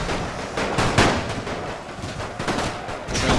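Dense gunfire and artillery blasts from a First World War strategy game battle at Tannenberg, a steady barrage of overlapping shots and booms at moderate level with no talking.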